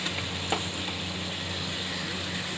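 Onions hit a hot pan with chicken and sizzle, a steady close frying hiss with a faint clink of stirring near the start, continuous and without speech.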